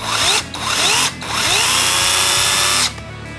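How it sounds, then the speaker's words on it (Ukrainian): A small Worcraft CHS-S20LiB cordless mini chainsaw whines up to speed in three bursts, pausing briefly between each before cutting off, close and loud with no talking. "Вмикаємо саму пилку і вона готова до роботи"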